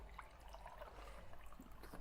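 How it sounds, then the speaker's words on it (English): Peppermint tea pouring into a cup, a quiet trickle of liquid running steadily for a couple of seconds with a faint room hum underneath. "I'm pouring more peppermint tea."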